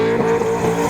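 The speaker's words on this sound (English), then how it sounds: "Vision obtained by 9 News shows drivers performing burnouts in the Eastlink tunnels" Cars doing burnouts inside the Eastlink road tunnels at night, a loud, steady engine roar with a sustained high rev tone and some tyre noise, echoing close by with no pauses.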